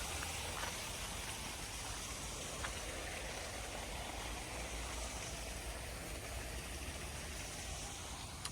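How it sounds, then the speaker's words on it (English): Steady running water fills a quiet spot in Shosei-en garden in Kyoto, a soft, constant wash of flowing water with no voices. "enjoy the sound of running water, the peace and tranquility"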